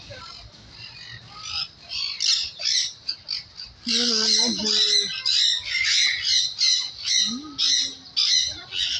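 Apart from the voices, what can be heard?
bird squawking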